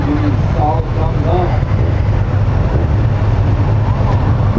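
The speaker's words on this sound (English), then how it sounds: "Very smooth engine." A 2019 Kawasaki ZX6R motorcycle engine hums as a low, steady rumble while riding, mixed with wind buffeting, and a voice talks over it.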